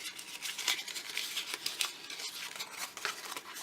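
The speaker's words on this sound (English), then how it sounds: "We'll just crumple it up one more time." Paper is crumpled by hand for a stamping camouflage technique, giving a soft, continuous crinkling and rustling with small crackly peaks, fairly quiet and close, with no voices.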